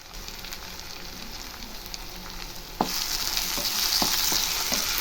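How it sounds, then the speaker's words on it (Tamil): Tomato and egg gravy sizzles in a pan while a spoon stirs it, a few distinct scraping strokes landing near the end over a constant frying hiss that grows louder partway through. "இதை நம்ம மிக்ஸ் பண்ணி விட்டுடலாம்"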